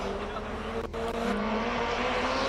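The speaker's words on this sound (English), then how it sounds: "This is where we just love the sound of the internal combustion" A race car at the Simola Hillclimb gives a loud, steady, close engine roar that holds through the whole moment, with a possible voice underneath.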